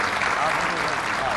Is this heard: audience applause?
yes